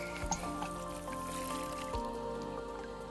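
Water dripping and trickling during watering at home, with small scattered drops and a soft continuous trickle, faint and close.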